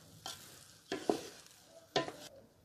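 A few close scraping stirs of a spoon through a mutton and rice mixture in a pot for Yemeni mandi, three distinct strokes over a soft background, with no voices.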